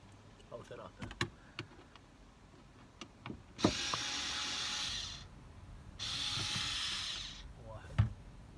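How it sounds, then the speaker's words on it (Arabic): Screws come out of the cabin air filter cover on a Nissan Patrol Y62, with a few sharp clicks and then two sustained, noisy whirring bursts of about a second each, close by, while someone speaks intermittently. "ثلاث براغي نفتحها"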